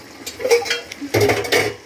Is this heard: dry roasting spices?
yes